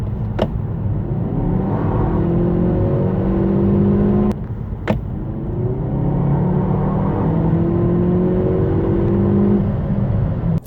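Hyundai i30 N Performance with 2.0 T-GDI engine and 8-speed dual-clutch automatic, engine revving up and down repeatedly in loud, continuous waves, heard close with a steady droning rumble and no talk.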